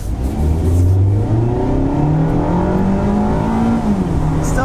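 A 2024 Mazda MX-5 Miata RF engine, automatic transmission in sport mode, pulls hard down a back road, its steady loud drone rising in pitch through the rev range with early upshift drops, heard from inside the car.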